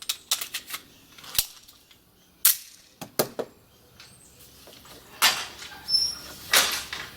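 Sharp gunshots from a Beretta 92G Elite Compact pistol at a shooting range, a series of distinct cracks spaced irregularly, close and loud with quiet gaps between.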